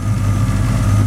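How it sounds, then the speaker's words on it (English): A Ford-powered 1940 Ford all-steel pickup resto rod idles under the hood with a mild cam and a serpentine belt drive, giving a close, steady, low rumble. "We'll show you it idling up here underneath the hood"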